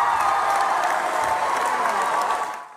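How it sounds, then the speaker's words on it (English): A high school basketball crowd cheers and applauds loudly after a basket, a dense roar of shouts and clapping that carries on before fading at the end. "And the crowd goes absolutely wild."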